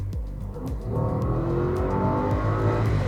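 An Audi SQ8 SUV accelerates hard, its engine note climbing steadily from a low growl into a loud, sustained roar heard from inside the cabin, with no voices.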